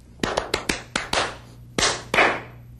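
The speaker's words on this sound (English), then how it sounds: "try clapping like this" Hands clapping out a rhythm pattern, about nine sharp, close claps in an uneven grouping with a few quick ones and then wider gaps, loud and alone without speech.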